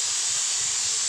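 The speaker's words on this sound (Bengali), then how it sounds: "কি হচ্ছে প্রেশার কুকারটা" A pressure cooker releases steam in one continuous, bright hiss that stays loud and even for about a second, with nothing else audible.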